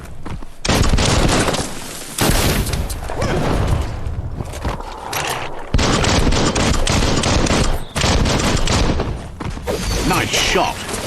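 Gunfire in the video game Biomutant, a dense run of loud, rapid shots and thuds that keeps going with only brief gaps, with a voice talking over the action now and then.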